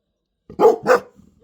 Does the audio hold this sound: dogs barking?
yes